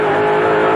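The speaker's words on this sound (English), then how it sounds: "The familiar face and the familiar roar of the V8 Ford Mustang" A V8 Ford Mustang race car at Hardies Heroes 1986 roars loudly with a steady, sustained engine note close by, with no talk over it.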